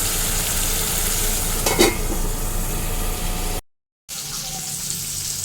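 Egg curry ingredients frying in a pan, a steady close sizzle with a brief stir or clatter near the middle, then a short gap of silence before quieter sizzling resumes.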